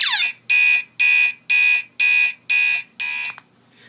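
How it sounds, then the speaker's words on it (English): A fire alarm system sounds its drill tone in pulses: seven loud, evenly spaced electronic horn blasts about half a second apart, each bright and buzzy, ending abruptly into near silence. "We can again re-alarm with the drill button."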